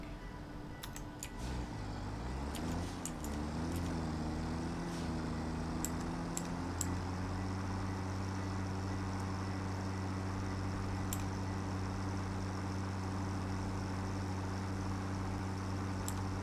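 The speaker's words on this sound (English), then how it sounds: "Drive tractor." A tractor in the video game Satisfactory rumbles into motion, its engine tone wavering as it pulls away, then holding a steady low drone, quiet and even, with occasional faint clicks.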